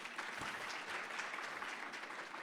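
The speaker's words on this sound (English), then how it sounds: "could you please give a clap?" An audience at a political talk claps in response, a faint, distant patter of scattered hands that keeps up steadily throughout.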